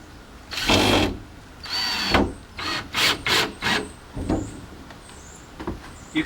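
A power drill drives 1 1/4 to 1 1/2 inch size 8 screws into wood, sounding as several separate whirring bursts of varying length with short pauses between them, close and fairly loud with no talking.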